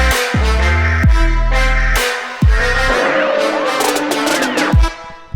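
A trap remix drop with a background choir: punchy, sliding 808 bass hits and layered choir chords over a driving beat, loud and dense, with no voices talking.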